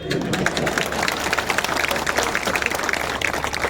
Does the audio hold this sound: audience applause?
yes